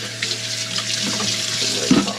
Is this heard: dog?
no